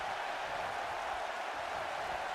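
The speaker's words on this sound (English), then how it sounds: "listen to this crowd" A large crowd at a WWE SmackDown wrestling arena roars during a wrestler's entrance, a dense, continuous wash of cheering with no single voice standing out.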